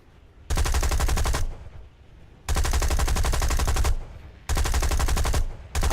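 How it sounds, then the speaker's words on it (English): Three sustained bursts of aircraft machine gun fire from a fighter in War Thunder, loud and close, each lasting about a second with short gaps of engine drone between them. "I'm putting a few machine gun rounds at him, trying to get him to turn."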